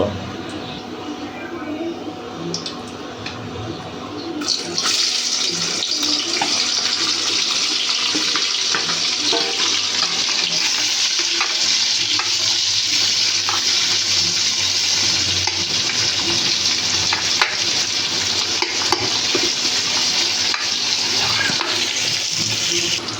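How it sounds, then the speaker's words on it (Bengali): Vegetables for chowmein drop into hot oil in a pan and break into a loud, steady frying hiss that carries on without a break after a quieter start. "তেলটা গরম হয়ে এসেছে, এখন আমরা সবজিগুলোকে দিয়ে দেব"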